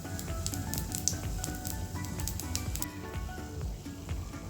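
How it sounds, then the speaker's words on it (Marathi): Anarsa, a sweet made for fasting, frying in oil or ghee over a low flame, giving a steady bubbling sizzle with soft crackles and pops, close up and continuous with no talking. "अनारसा आपल्याला हा तळायचा आहे तुम्ही तेलात तळू शकता किंवा तुपामध्ये"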